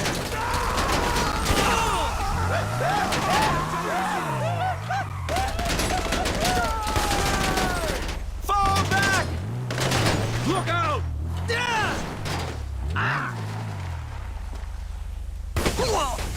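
Rapid sustained gunfire in GTA 5 Online as a full magazine is emptied, with dense bursts of shots, mechanical clatter and crashes running throughout, and a voice talking over the action.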